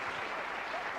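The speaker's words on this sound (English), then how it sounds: "This pathetic applause will not get you off the hook." Studio audience applause on a 1993 British TV light-entertainment show, a steady wash of clapping held at an even level throughout.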